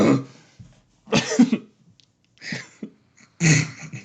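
A person coughs hard after something catches in the throat, with four harsh, close bursts separated by short pauses, loud and alone with no talking.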